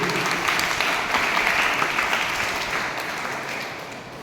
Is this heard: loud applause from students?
yes